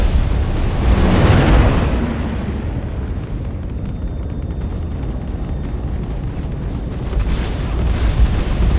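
Omnisky VI laser cannons firing in the Star Citizen space game, a loud booming burst of blasts early on that settles into a steady rumbling roar of continuous fire.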